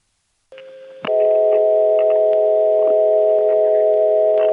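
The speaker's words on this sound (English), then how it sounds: "Here's the same dial tone with those overtones exaggerated." Telephone dial tone from a 1970s phone line with its overtones exaggerated, sounding as a steady, loud, continuous multi-pitched hum with a brief click and step up in level near the start.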